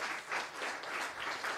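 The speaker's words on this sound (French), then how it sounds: "Ça, on peut les applaudir." Applause from an audience at an award ceremony in France, a steady dense wash of clapping that holds at even loudness throughout, without voices over it.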